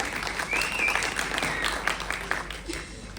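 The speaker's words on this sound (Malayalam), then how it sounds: "ഒരു വലിയ കൈയടി കൊടുക്കാം" A crowd gives a short burst of dense, steady clapping for a performing team at a stage show, close and continuous throughout.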